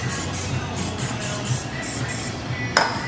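Cooking spray from a can hisses over pieces for keto fish and chips in a home kitchen, a close run of short rhythmic bursts ending in a small click.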